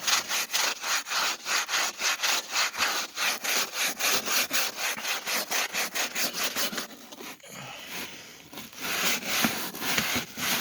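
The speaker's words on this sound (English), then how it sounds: "You need to take a scrub brush and just start scrubbing this." A scrub brush scrubs a Jeep Grand Cherokee headlight lens in quick, even back-and-forth strokes, a rhythmic rasping close by that pauses briefly and then resumes.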